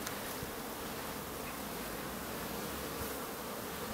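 Honeybees swarm over frames in an open backyard beehive, a dense, continuous close-up buzzing that stays loud and even throughout with no talk.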